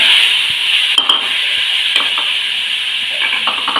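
Cabbage tipped into a pan of chilies already roasted in oil, with capsicum and carrot, sizzling steadily throughout with a few sharp clinks of a spoon or spatula against the pan, close and continuous with no voices.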